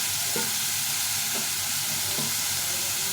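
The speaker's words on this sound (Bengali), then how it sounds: "ভালো করে ভেজে নেব টমেটোটা নরম হওয়ার জন্য" Tomatoes frying in oil in a pan give a steady, dense sizzle throughout, broken by three brief stirring scrapes at roughly even intervals, with no voices.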